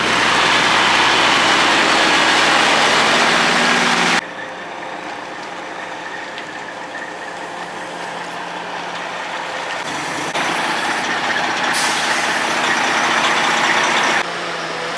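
A truck engine idling with a steady heavy rumble as it backs in on a farm for a hay load, loud throughout with abrupt shifts in level.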